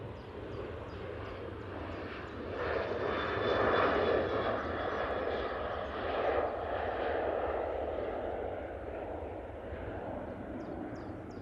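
A Boeing 737 taking off at Manchester Airport, a distant, steady jet engine roar that swells to a broad rumble midway and then slowly fades, heard alone without talk.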